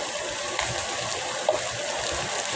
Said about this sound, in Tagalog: Bagsak talaga doon ang tubig.